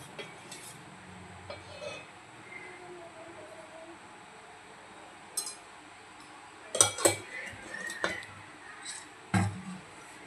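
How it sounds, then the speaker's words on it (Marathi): A small tadka pan is set down on a gas stove, with a few sharp metallic clinks and knocks in the second half over a quiet background. No one speaks. "तडका देण्यासाठी आपण गॅसवर तडका पॅन ठेवलेला आहे। यामध्ये आपण आता तेल ॲड करूया।"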